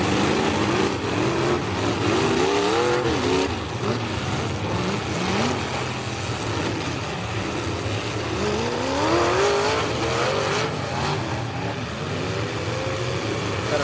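Race cars rev and accelerate together onto an oval track after a green flag at a Spring Explosion event, a loud continuous roar with rising engine pitches from the near pack, dense and steady throughout.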